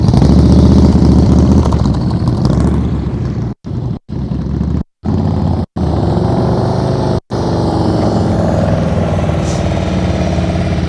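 A motorcycle engine holds an even, steady drone during slow-speed riding practice, close and loud, with several abrupt brief dropouts in the recording before the steady tone resumes.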